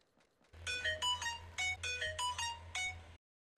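A melodic electronic phone ringtone plays a repeating series of bright tonal chimes over a low steady hum, loud and close, then cuts off abruptly.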